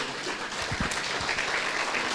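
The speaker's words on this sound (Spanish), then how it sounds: "¿Cuánto le dan un fuerte aplauso" Congregation applause during a church service: a brief burst of hand clapping, fairly quiet and diffuse, heard without speech over it.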